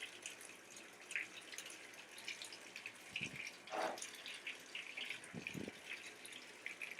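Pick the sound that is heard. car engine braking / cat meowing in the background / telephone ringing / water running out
water running out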